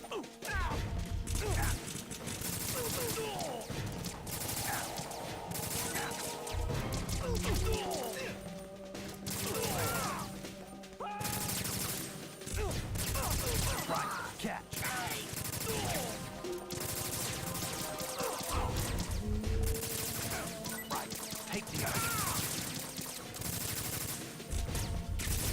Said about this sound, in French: Je tire dans le vide.